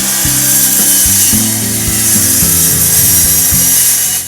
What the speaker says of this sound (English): look how this hard maple gives my chop saw a workout